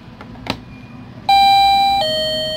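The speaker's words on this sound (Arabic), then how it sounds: "بالأصل كان هو من نضغط هنا يدق لنا جرس" A water tank level alarm chimes loudly after a couple of faint clicks, sounding two sustained electronic bell tones in succession that ring out and slowly decay.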